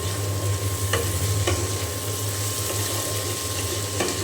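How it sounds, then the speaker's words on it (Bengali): Vegetable bhaji stirred in a pan with salt added, a steady sizzle and low hum running throughout, with a few brief scrapes of the spatula standing out over the constant frying noise. "তো এখন খুব ভালো করে আমি নেড়ে চেড়ে ঢাকনা দিয়ে ঢেকে দেব"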